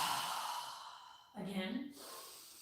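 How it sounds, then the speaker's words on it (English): A strong open-mouthed exhalation during yoga breathing, a single breathy rush of air following a stretch of quieter room sound, close and fairly soft. "exhale with our mouth open wide, with a strong breath as we exhale"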